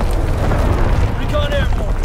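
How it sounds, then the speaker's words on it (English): Division artillery barrage in Call of Duty WWII: a dense, continuous rumble of heavy explosions, loud and low, with faint whistling tones sliding across near the end. "Firing division artillery."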